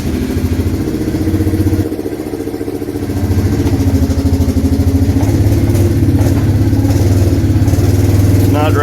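A 2008 Arctic Cat 366 ATV engine idles with a loud, even putter, its rhythm rising slightly as it backs up, close by and under occasional speech.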